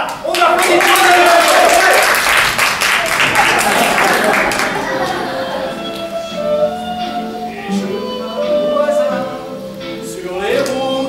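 An audience claps loudly at a holiday show for about four seconds, then the applause dies away as voices and a tuneful sung or musical passage take over.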